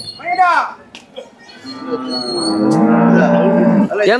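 Cattle at a cattle market give loud, close, drawn-out moos, several long calls one after another with brief gaps.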